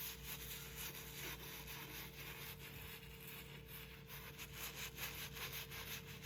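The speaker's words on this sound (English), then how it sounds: "you're gonna start off scrubbing in gentle circular motions" A brush scrubs a skate shoe in gentle circular motions, a faint, steady bristly rubbing with a soft back-and-forth pulse and no talking.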